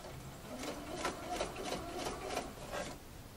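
A sewing machine stitches bias binding onto a curved seam, its needle running in a steady close rhythmic chatter with regular pulses throughout.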